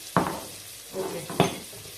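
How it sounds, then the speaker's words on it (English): Seasoning being stirred in a pan for a Nigerian meat pie filling: two sharp utensil scrapes against the pan with a softer shuffling stir between them, close and fairly quiet with no voices. "I'm going to stir very well."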